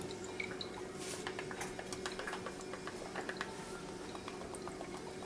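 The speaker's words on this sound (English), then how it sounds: "we're going to coat it with a little bit more sesame oil" Sesame oil goes into a large heated skillet and hisses and crackles with fine irregular pops and drips over a steady low hum, close by and with no talking.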